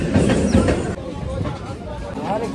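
A crowded local train bound for Sealdah rumbles and rattles on the rails, with steady carriage noise under a hubbub of passengers and a nearby voice talking.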